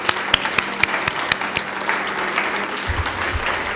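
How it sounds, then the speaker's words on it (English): Steady applause from a crowd at a community college district election forum, with sharp individual claps standing out near the start, a low thump or two toward the end. "a round of applause for all of us"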